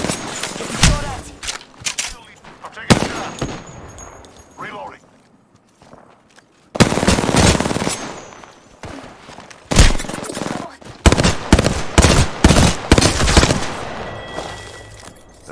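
Gunfire in a shooter video game: sharp bursts of shots and rapid volleys come in clusters, loud and close, mixed with footsteps and game noise, while a voice talks over the action.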